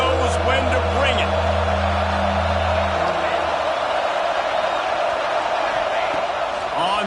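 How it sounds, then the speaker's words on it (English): A dense stadium crowd roars steadily throughout a Madden/NCAA football video game, a constant broad wash of cheering with a low rumble fading after the first few seconds. "This crowd knows when to bring it."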